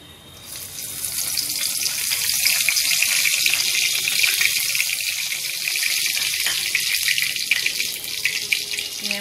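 Cumin seeds sizzle in hot oil in a kadai for kadai paneer, a steady loud frying hiss with crackling pops that builds quickly and continues throughout without talk.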